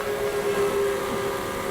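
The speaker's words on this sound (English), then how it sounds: "Then there was one long and low whistle." A long, low steam engine whistle sounds as one steady held tone throughout, fairly loud over a soft rumble, in an animated railway setting.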